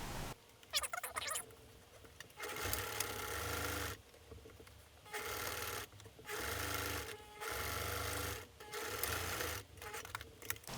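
Sewing machine top stitching face mask fabric, running in several bursts of steady whirring separated by short quiet gaps, close and fairly loud, with no talk.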